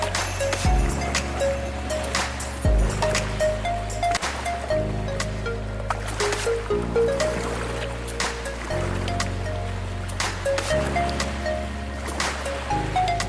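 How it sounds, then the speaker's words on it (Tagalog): Ocean waves surging and washing continuously, a loud rushing roar with rhythmic swells, recorded close in the surf. "Ang lakas ng alon, Ayan na at sasalpok na sa atin"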